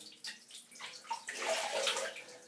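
Warm water splashes and trickles on a flannel, wringing and dripping into a basin at close range, the sounds rising and thickening toward the end.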